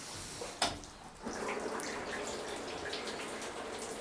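Water runs steadily from a smart shower head at low volume, a soft continuous splashing hiss with a brief sharp knock near the start.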